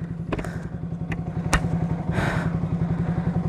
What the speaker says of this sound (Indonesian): suara mesinnya tuh adem